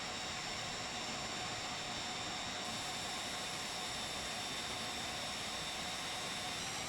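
Idling MB339 jet engine in Microsoft Flight Simulator, a steady broadband whine and rush with high tonal lines, constant and fairly loud throughout with no voices.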